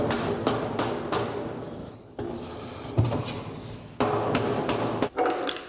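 Sheet metal top of a duct plenum tapped into place with a hammer, a run of sharp metallic knocks in quick bursts, close and loud, with a short pause midway and no talking.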